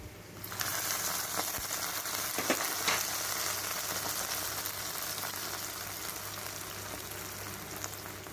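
Cashews and raisins fry in a ladleful of ghee for payasam with a steady, dense sizzle that starts abruptly and holds close and even, with a couple of faint stirring taps and no talking.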